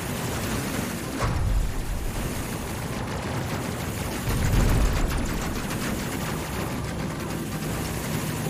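Gunfire rattles in the space combat game Space Crew as a dense, continuous barrage of rapid shots layered over a low engine rumble, with a couple of heavier bursts and no talking.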